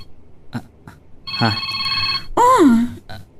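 A cellphone rings with a bright, steady electronic tone that is cut off partway, amid close voices, a few sharp knocks and a vocal sound afterward.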